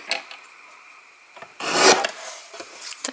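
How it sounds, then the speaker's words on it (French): A small paper label is cut out from leftover paper scraps while making a greeting card, giving a few short dry rasping snips, the loudest burst in the middle, close and alone. "Et je vais découper ma petite étiquette."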